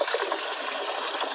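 A cyanotype print rinsed in a tray of rinse water gives a steady close splashing and trickling wash, continuous and fairly loud with no voices.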